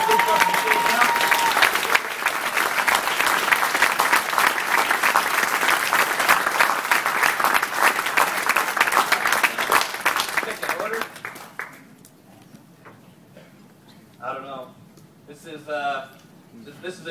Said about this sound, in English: Please, ladies and gentlemen, give these guys a warm round of applause.